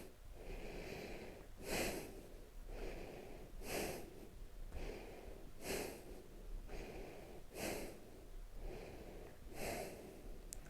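Slow, rhythmic breathing during a Kriya Hatha Yoga exercise comes through close and soft, with about five audible nasal inhales and exhales evenly spaced every two seconds and no talking.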